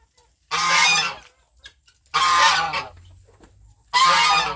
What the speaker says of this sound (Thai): ห่านที่ผมเลี้ยงไว้นะครับ เป็นห่านจีนนะครับ